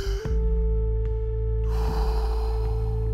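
A person takes a deep, audible breath in the Wim Hof breathing method, the airy inhale rising partway through over a steady, sustained music drone.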